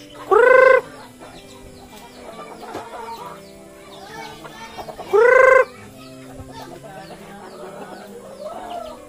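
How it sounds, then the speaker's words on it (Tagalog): Chickens and a rooster on a farm, with steady clucking throughout and two loud, close crows standing out clearly above the flock. "Daming manok na ito"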